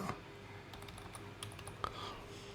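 Fingers tap out a job title on a computer keyboard in quick, close key clicks with small pauses, a few sharper keystrokes standing out, and no talking.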